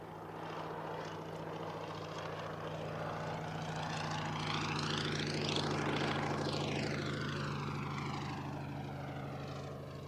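A Fairey Swordfish biplane flies past at the Cosford airshow, its propeller engine droning steadily with a rising and falling Doppler sweep as it passes at moderate distance, under a constant low hum.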